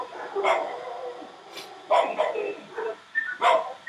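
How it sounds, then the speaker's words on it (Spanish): Several dogs bark and yelp in a scuffle nearby, with sharp bursts of barking at irregular intervals and a few whimpers between them. "tengo un pleito de perros"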